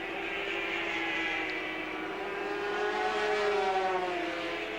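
Grand Prix racing motorcycles at the British Grand Prix howl past at high revs, with engine pitch rising and falling as the bikes go by, steady and moderately distant throughout.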